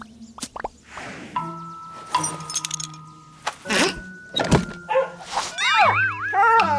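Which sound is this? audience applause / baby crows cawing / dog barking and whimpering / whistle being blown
dog barking and whimpering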